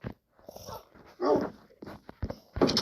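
A dog whines and whimpers in short, uneven bursts in Minecraft, with a few sharper yelps, fairly close and moderately loud.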